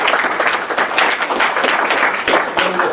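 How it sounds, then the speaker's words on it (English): A crowd claps and applauds continuously, dense and fairly loud, with scattered individual claps standing out. "give a round of applause to all of the folks who were here"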